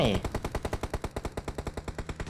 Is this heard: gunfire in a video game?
yes